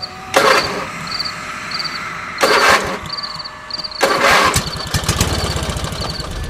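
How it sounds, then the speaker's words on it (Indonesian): A motorcycle's electric starter cranks in three loud, separate bursts on a quiet night road, each whirring attempt failing to catch, with crickets chirping steadily in the background between tries. "Aku pun mencoba starter motor saya berkali-kali, tetapi tidak bisa sama sekali."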